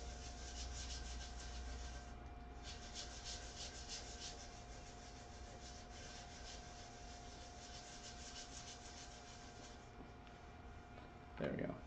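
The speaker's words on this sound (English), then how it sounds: "sanding it like this without the water, that dust will blow right out just like any other sanding dust" Dry sanding of a segmented wooden turned vessel gives a steady, continuous abrasive hiss for most of the clip, with a short, louder rubbing burst near the end.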